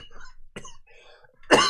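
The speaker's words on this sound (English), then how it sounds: "You just coughed." A person coughs once, a sharp, loud burst that follows some quieter breathy throat sounds and scattered low noises.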